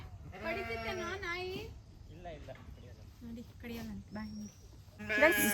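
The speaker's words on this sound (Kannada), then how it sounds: "ಎಷ್ಟಿದಾವೆ ಕುರಿಗಳು ಇದ್ರಲ್ಲಿ?" Sheep bleat several times in wavering, nasal cries, close by on a sheep farm, with people talking in between and over the calls.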